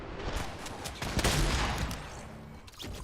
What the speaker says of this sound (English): Shotgun through the explosion.